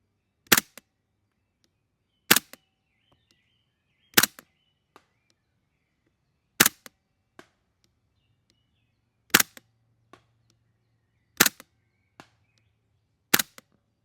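Novritsch SSQ4 HPA-powered airsoft rifle firing BBs at 50 metres, seven sharp single cracks spaced about two seconds apart, each followed by a faint distant tick, with near silence between shots.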